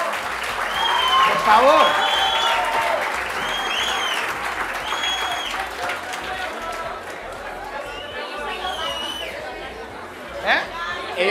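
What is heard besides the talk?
audience applause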